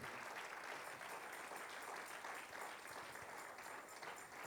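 A church congregation claps for Christ during an afternoon sermon, a steady dense wash of many hands that holds evenly throughout, fairly soft and distant.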